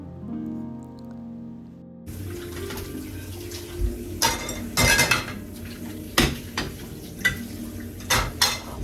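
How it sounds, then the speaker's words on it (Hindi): Breakfast dishes washed under a running tap: after about two seconds of near silence, steady water hiss starts with irregular clinks and clatters of plates, pots and cutlery, some sharp knocks standing out, close by with no talk. "यहाँ जो है वो नाश्ते के बर्तन मैं धो रही हूँ"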